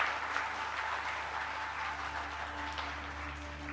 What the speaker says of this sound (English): But the clapping was not strong.